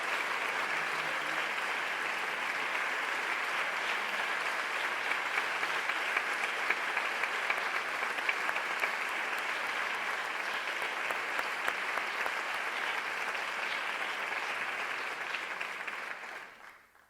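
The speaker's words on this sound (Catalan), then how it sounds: "Este fort aplaudiment per Ampar Claramunt." A theatre audience claps in a long, dense, sustained ovation honoring actress Ampar Claramunt, steady and full for about sixteen seconds before fading out abruptly.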